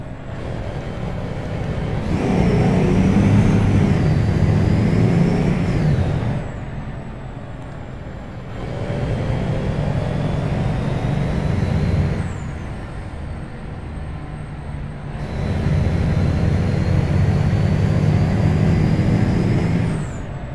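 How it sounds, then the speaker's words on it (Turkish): V8 truck engine and exhaust in Euro Truck Simulator 2, driving from Calais to Duisburg. Loud droning bursts build and fall away three times with gear-change pauses between them, and an air brake hisses. There is no talk. "Yani egzoz sesini duyun diye fazla konuşmuyorum."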